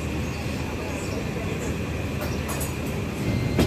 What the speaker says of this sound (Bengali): যোগাযোগ ট্রেন চলছে